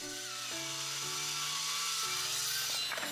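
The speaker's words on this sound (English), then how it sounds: "when we have thick walnut, it's better to cut like 2 or 3 times." A power saw cuts steadily through a thick black walnut slab for a coffee table, taking about an inch per pass, giving a loud continuous whine with shifting tones as the blade bites into the wood.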